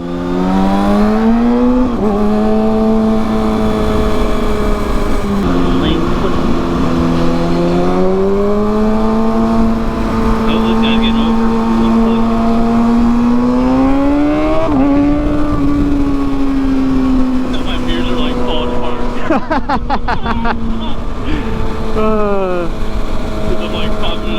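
Motorcycle engine revving through a power wheelie, its pitch rising and falling over several throttle pulls under heavy wind rush, loud and close, with a rider talking over it.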